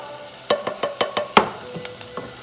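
Garlic and onions sautéing in a pan for a vegan Alfredo sauce: a quick series of sharp spatula taps and scrapes over a faint sizzle, close and fairly loud.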